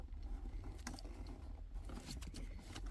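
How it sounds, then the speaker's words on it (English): Rubber vacuum lines are pulled off the central locking vacuum pump of a Mercedes W124, giving quiet scattered clicks, rustles and snaps close by. "We first disconnect the vacuum lines,"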